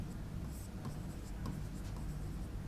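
Chalk or pen writing on a board during a Hindi lecture on constitutional features: a continuous, close, scratchy run of strokes with small taps, no voice heard.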